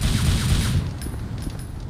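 Gunfire from the Devil May Cry video game sounds as a brief burst of rapid shots that fades into rumbling echo.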